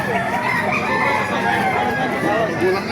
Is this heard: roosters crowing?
yes